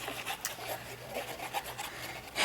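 Close scratchy chewing and rubbing as a cat with a small bell on its collar eats from its bowl, a continuous rasping texture of crunches with a louder burst right at the end, no talk.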